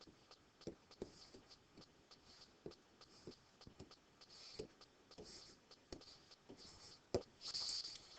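Pen or pencil scratching out notes by hand on paper, a faint continuous scrawl with soft taps and strokes, heard close in a quiet room with no talking.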